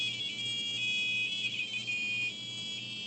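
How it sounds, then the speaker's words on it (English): Small speaker on a homemade C/C++ infrared piano, hand-controlled over IR distance sensors, emitting a steady electronic tone that holds continuously for about three seconds, slightly quieter toward the end, with no talk. "The speaker beeps at a frequency matching the note for that key."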